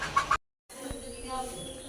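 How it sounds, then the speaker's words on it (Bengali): Small native Bangladeshi country chickens give a brief burst of close clucking, followed by quieter yard ambience after a short gap. "এগুলো একটু ছোট সাইজের মুরগি, দেশি মুরগি সবই।"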